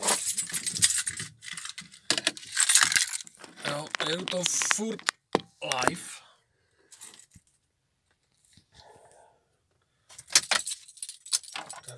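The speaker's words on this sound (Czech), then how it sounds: "Klíče." Keys jangle in a Czech truck driver's hands during a night run, loud bright metallic jingling in repeated bursts near the microphone, interleaved with someone speaking, then a quiet pause before more jangling.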